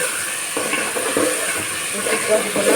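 Mustard paste with spices being stirred in a hot pan for a thin katla fish curry, with steady sizzling and soft scraping strokes throughout, close and moderately loud, with no talk.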